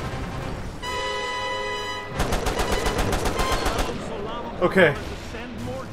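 Bursts of rapid automatic gunfire ring out in the Mercenaries 2: World in Flames video game, a dense rattling stream of shots followed by a couple of louder bangs, with someone briefly speaking.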